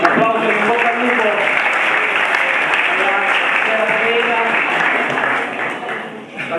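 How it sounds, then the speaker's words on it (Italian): A crowd applauding steadily at a basketball awards ceremony, a dense patter of clapping that holds for several seconds before tapering slightly at the end. "Applausi"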